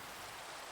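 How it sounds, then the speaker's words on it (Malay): Steady rain hiss from a block-building video game, a continuous wash of falling rain at moderate-low level with no other sounds or voices. "Wih, hujan ni."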